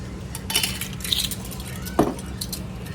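Metal measuring spoons clink and jangle lightly while salt goes into homemade bread dough, a few small close taps and one sharper knock around the middle, with no talking.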